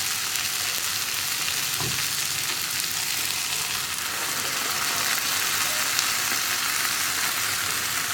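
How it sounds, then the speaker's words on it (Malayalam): Ground masala paste hits a hot pan of softened tomato in a home kitchen, giving a loud, steady sizzle and crackle that runs unbroken throughout, with a brief stir partway and no voices. "ഇതിലേക്ക് ഇനി നമുക്ക് നമ്മൾ അരച്ച് വെച്ചിരിക്കുന്ന അരപ്പ് ചേർക്കാം"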